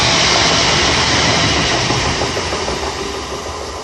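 A Class 350 electric train, unit 350-373, passes loudly and close by at a rural station, its broadband rumble and rail rattle filling the clip before slowly easing.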